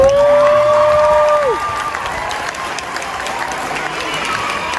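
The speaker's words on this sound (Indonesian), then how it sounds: "lebih baik kita kerasin aja tepuk tangan" A large audience at a government tourism and creative-economy forum claps loudly, with some cheering. A sharp whistling tone rings out at the start, then fades as the applause carries on strongly.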